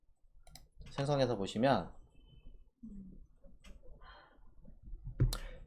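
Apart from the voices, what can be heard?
mouse clicks on a computer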